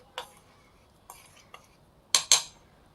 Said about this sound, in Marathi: आता हे आपण थोडं चमच्याच्या साह्याने मिक्स करून घेऊ